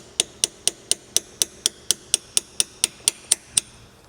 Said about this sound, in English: So you take a socket, put it right at the edge of the half moon, and tap it.